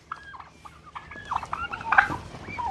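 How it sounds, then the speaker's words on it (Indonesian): Turkeys gobble repeatedly on a farm where livestock are fed bran mixed with waste, several calls overlapping close by and growing louder toward the end, with no talking. "Nih, kalkun."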